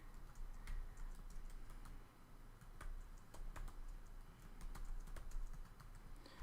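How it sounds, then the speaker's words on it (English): Continuous typing on a computer keyboard, a steady patter of soft key clicks over a constant low background hum, fairly faint and without any talking. "I'm gonna type that in."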